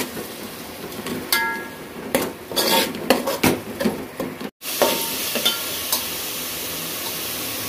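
Ground raw masala paste for Covai-style biryani is sautéed in a pan. A metal spoon repeatedly scrapes and clinks against the pan over a steady sizzle, loud and close, ending in continuous frying hiss.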